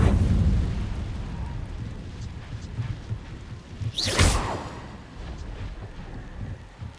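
The Incendio fire spell is cast in Hogwarts Legacy, a sudden roaring burst of flame over a low rumbling game backdrop, followed by a fading crackle.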